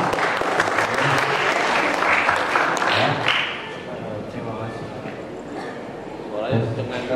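Audience at a campus study program on a UGM-LAVA Merapi tour bursts into dense, loud clapping that fills the first half, then thins to softer scattered claps as voices talk over it.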